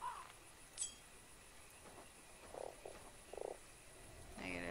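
Frog croaks from the video game Fran Bow, a few short separate calls spaced apart over a quiet background, with a brief clink and a louder croak at the end.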